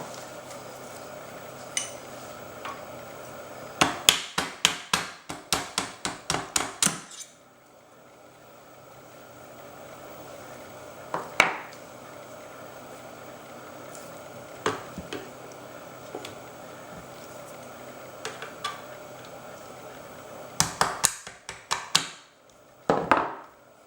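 A hammer drives a punch to knock trigger assembly pins out of an airsoft rifle, struck in quick rhythmic clusters of sharp metallic taps with a couple of isolated blows between, close by.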